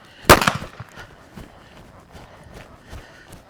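A gunshot fired from horseback during riding training rings out as one sharp, loud crack, followed by the soft irregular thuds of hooves as the horse keeps moving.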